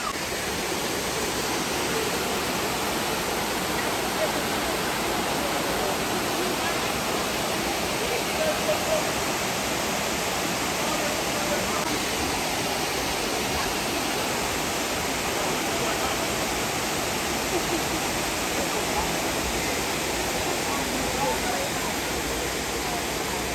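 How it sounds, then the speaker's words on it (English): Dunn's River Falls waterfall in Jamaica, a steady, broad rushing roar of falling water, loud and unchanging throughout with no distinct breaks. "Dunn's River Falls is something you should not miss when you're visiting Jamaica."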